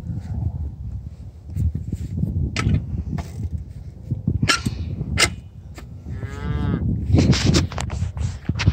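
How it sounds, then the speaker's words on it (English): Hungry farm calves moo loudly and repeatedly at close range, several overlapping bawls rising and falling across the clip over a busy farmyard background. "Yeah, the calves are really hungry."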